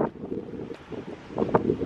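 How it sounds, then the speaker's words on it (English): Wind buffets a microphone on a coast in Curaçao, a rough continuous rumble with gusty swells and a brief sharper burst near the end, loud and close. "So sorry about the wind"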